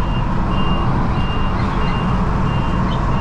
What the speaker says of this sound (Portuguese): A seta fica fazendo barulho.